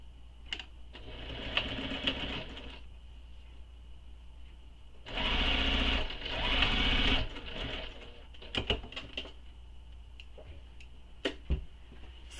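A sewing machine stitches the short edge of a bag's exterior and lining in two loud bursts, each a few seconds long, with quieter handling clicks and taps between them.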